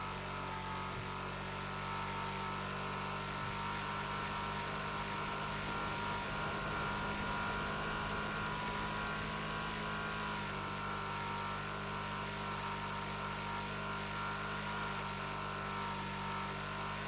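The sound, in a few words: loud truck engine at high speed in GTA Online video game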